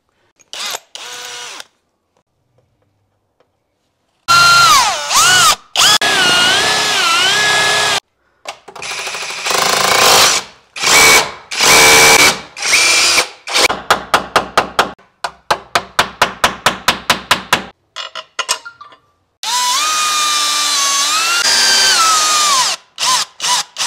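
A power drill whines loudly in long bursts, then in a rapid series of short stop-start pulses, before a final sustained run into a wall, drilling holes for a TV wall mount.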